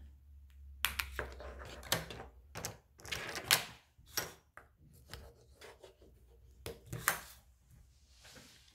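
Scissors snip repeatedly through paper while a photo album is assembled, a string of crisp, close cuts in irregular bursts with quiet pauses between them.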